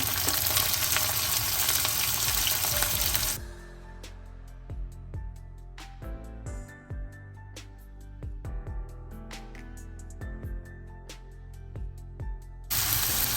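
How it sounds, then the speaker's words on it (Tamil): Small onions hit hot oil with fennel seeds for a soya chunk and brinjal curry, starting with a loud hiss that settles into a quieter sizzle with scattered crackles and spoon scrapes, then a loud burst again. "சின்ன சின்னன்னா ஒரு ரெண்டு வெங்காயம் போட்டு வச்சிருக்கிறேன் அதை சேர்ப்போம் இப்போ"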